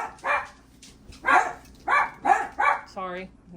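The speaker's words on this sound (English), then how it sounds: "Sorry, dogs are barking." Dogs bark in a sharp, close-by series of about five barks at uneven spacing, ending in a brief whine, with no talk over them.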